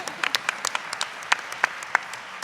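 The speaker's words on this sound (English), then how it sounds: "we could give them an applause" A modest theater audience applauding in a short burst, scattered individual claps rising out of a light patter of hands, moderately close and brief, with no voices over it.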